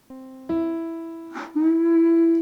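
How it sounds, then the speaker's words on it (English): A single voice sings a sustained E note for a vocal harmony, held steadily with a brief breathy break midway before resuming, clear and close with no accompaniment. "The E sounds like this."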